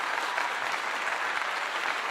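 Steady, dense applause from a group, continuous and even for a couple of seconds, a uniform wash of clapping with no voices standing out.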